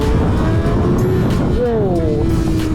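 A Kawasaki ZX-6R sport bike accelerates on the road, its engine note climbing steadily in pitch over a loud, rushing wind roar, heard up close from the rider's position.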